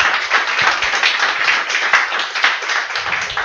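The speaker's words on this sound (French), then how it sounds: "On peut une petite main d'applaudissement." Applause from an audience greeting someone, a steady dense patter of many hands clapping without a break, fairly close and loud, with no voices standing out.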